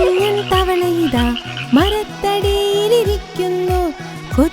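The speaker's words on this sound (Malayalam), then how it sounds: "ഒരു കുഞ്ഞൻ തവളയിതാ" Small cartoon frog croaking in an animated children's song, with repeated bouncy croak-like tones riding over a steady musical backing throughout.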